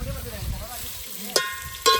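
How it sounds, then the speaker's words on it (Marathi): Tempering spices sizzle in hot oil over an outdoor cooking fire at a temple picnic, a brief crackling fry with stirring, a sharp clank near the end and faint talk. "आता याला फोडणी द्यायला लागल्यात"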